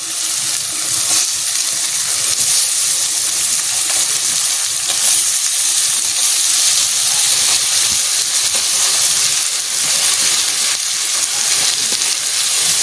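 Stuffed brinjals fry in a pan of hot oil with a loud, steady, close sizzle that runs throughout with no talk.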